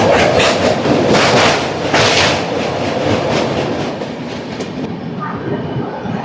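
An AC superfast express train, number 12783 running from Visakhapatnam to Secunderabad, rumbles steadily with broad, loud rail noise and faint rhythmic clatter of wheels over track joints, easing slightly toward the end.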